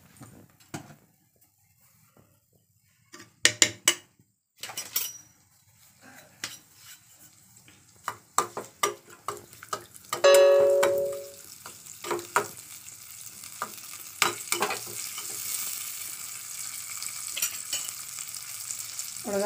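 Soft sizzling of spices tempering in oil with turmeric for potato masala, with clinks of a spoon against a pan and scattered stirring noises, mostly quiet.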